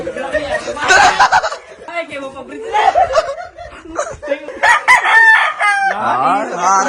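A rooster crows loudly nearby several times in succession at a cockfighting pen, its drawn-out calls overlapping with people talking and chuckling around it.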